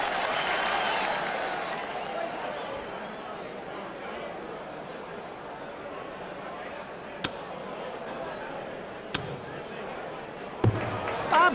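Darts crowd at the 2008 PDC World Championship cheering and clapping after a checkout is left, a broad roar that fades into steady crowd murmur, with a commentator talking over it and a few sharp knocks near the end.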